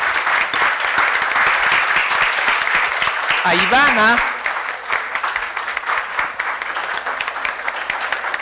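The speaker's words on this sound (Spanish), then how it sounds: "un aplauso por favor para Frank" Sustained audience applause at a talk on nutrition and meal order fills the room, a dense steady patter of clapping with a brief voice rising over it midway.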